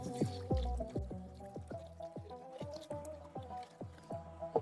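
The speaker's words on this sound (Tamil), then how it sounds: "இந்த நிலைமையில் நான் இப்போ வந்து தண்ணியை ஆட் பண்ணுறேன்." Water pours and glugs into a pot for cooking rice biryani in a rhythmic series of bubbling gulps, close and fairly quiet.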